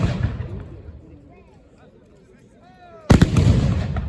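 A single loud cannon blast from artillery at a 1793 battle reenactment of the assault on Arlon, Belgium, booming suddenly after quieter background sounds.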